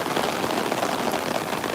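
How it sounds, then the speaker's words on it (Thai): Heavy rain pours down steadily in a dense, loud hiss of drops on surfaces, continuous and close with no voices. "คุณผู้ชมดูฝนนะ โอ้ ฉ่ำมาก"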